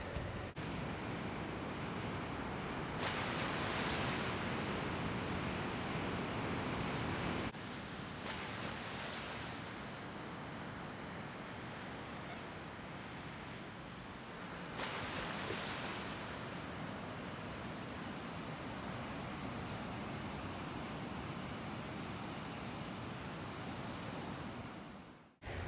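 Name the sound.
ocean waves on the beach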